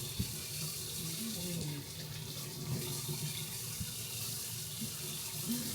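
Kitchen tap water running steadily into a sink while beef is rinsed, a continuous close splash with occasional clinks and handling noises, no talking.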